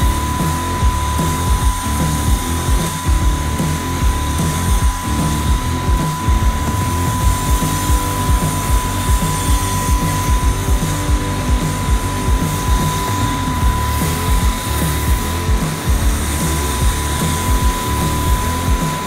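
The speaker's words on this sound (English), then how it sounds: "We'll foam this thing down, make quick work out of this." A pressure foam sprayer foams down the stripes of a smooth-sided East trailer during a wash, giving a loud, steady hiss and rush that runs unbroken, close and alone, with no talk.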